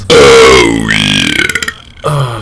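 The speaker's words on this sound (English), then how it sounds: "I'm about to burp, so if you could just stay and listen to this" A long, loud, deep burp from a very full person, sustained with a rattling, wavering tone that breaks into fluttering pulses before a short second belch at the end.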